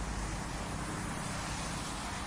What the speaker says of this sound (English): Listen to the tires whispering on the wet road.